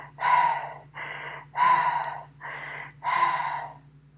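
A voice imitates a monster's heavy panting, three loud, breathy, rasping pants spaced evenly and close to the ear, with no other sound around them.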